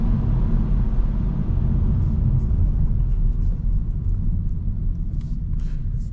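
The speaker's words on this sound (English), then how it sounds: "It is stock exhaust, so it's not going to be really loud, but you'll be able to hear the car more pronounced." 2023 Honda Civic Si with stock exhaust and intake, a steady deep low rumble of the engine and road noise while driving, moderately loud and continuous with no talk.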